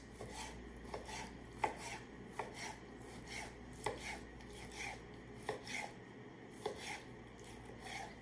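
Raw tilapia is chopped into small pieces for ceviche, a knife tapping a board in a quick, fairly regular series of light, close knocks at low volume with no talking.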